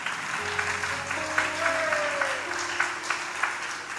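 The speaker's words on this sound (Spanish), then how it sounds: "¿Cuántos le pueden dar un aplauso fuerte a Cristo?" A church congregation applauds in steady, moderate clapping, while sustained organ or keyboard tones play softly beneath it.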